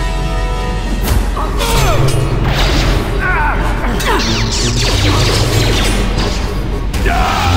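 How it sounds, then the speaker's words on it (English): Bombs dropped by the Sith explode in the Knights of the Old Republic video game, loud repeated booms and crashes layered over dense battle noise and chaotic effects throughout. "the bombs they're dropping will kill us all"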